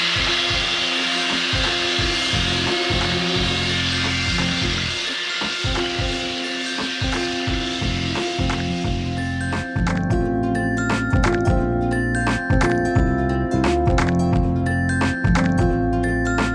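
A steady motorized whir from an immersion blender mixing homemade soap, with rough grinding and churning texture, continuous and close, growing denser and louder partway through.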